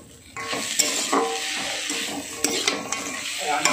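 Fried chenga fish is stirred into spicy chili masala in a pan, giving close scraping and clinking of a utensil against the pan over a steady sizzle of frying.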